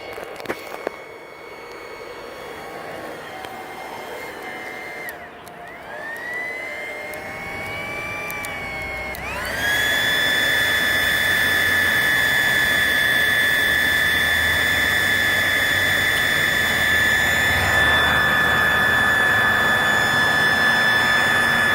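A heat gun blowing on a carbon fiber headlight overlay for a Subaru Crosstrek, a steady close whooshing roar with a high whine that shifts pitch partway through, then holds loud and constant.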